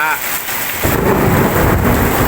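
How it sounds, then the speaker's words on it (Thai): Heavy rain pours steadily while a deep roll of thunder rumbles in, loud and close, filling the whole stretch with storm noise. "ฝนตกเยอะแรงมากนะครับแล้วก็ฟ้า"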